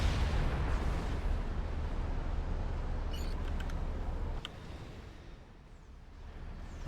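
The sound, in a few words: Fatboy artillery firing in Supreme Commander video game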